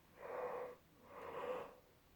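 A person yawns quietly, two drawn-out, airy, wheezing breaths close by, each lasting about half a second with a short gap between them and no speech.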